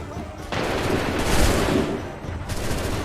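Musket volley fire in Assassin's Creed III: a dense, sustained crackle of many overlapping shots from a line of soldiers, loud and continuous for most of the span, rising in the middle and easing slightly toward the end.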